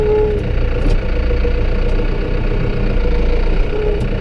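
A tractor's engine runs continuously while its front loader works, a loud, close, even rumble that holds steady throughout without any talking.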